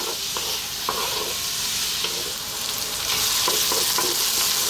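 Onions and bell peppers frying over medium heat in a pan, a steady soft sizzle with periodic scraping stirs, close and moderately loud with no talk.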